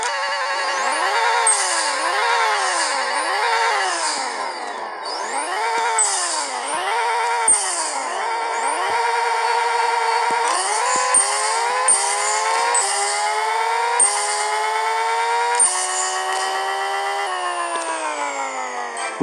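A Lamborghini Huracan engine in the game Pixel Car Racer revs and shifts repeatedly, rising whines and drops, loud and continuous with crackling exhaust pops near the end.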